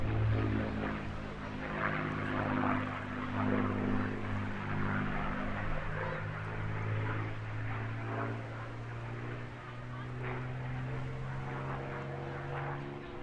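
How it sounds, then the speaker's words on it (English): The Battle of Britain Memorial Flight makes an airshow flypast at the English Riviera Airshow, vintage piston propeller engines droning with steady low harmonic tones, moderately distant and sustained throughout without speech. "And here they are, catching us all out, the Battle of Britain Memorial Flight."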